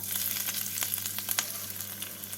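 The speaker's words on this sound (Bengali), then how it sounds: "এবার এই গরম তেলের মধ্যে দিয়ে দেবো দুটো শুকনো লঙ্কা দিয়ে দেবো জুলিয়ান করে কাটা আদা" Two dried red chillies and julienned ginger fry in hot oil for honey chicken, producing a dense, even sizzle with sharp crackling pops, close and steady over a low hum.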